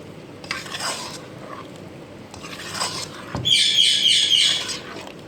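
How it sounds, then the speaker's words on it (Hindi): Potatoes being stir-fried with spices in a pan for an aloo gajar matar sabzi, giving a steady sizzle with scraping stirs that swell louder and brighter toward the end, with no talk. "आँच थोड़ी सी तेज़ कर दें और आलूओं को थोड़ा सा फ्राई कर लें मसाले के साथ।"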